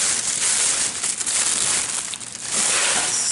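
Pink tissue paper from a gift bag crinkles and rustles up close, a continuous bright crackling that dips briefly near the end before picking up again.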